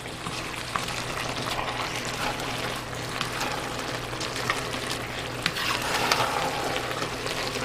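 Onions for French onion leek soup cook down in a pot with a soft, steady sizzle and bubbling close by, broken by small scattered pops and light stirring noises.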